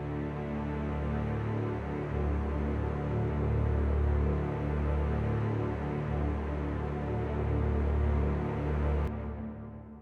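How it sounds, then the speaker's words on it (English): A string section from the East West Hollywood Strings plugin plays sustained, dense, ominous chords with slow swells, heard alone and continuous until it cuts off abruptly near the end. "I added these string section plugins, and it sounds like this."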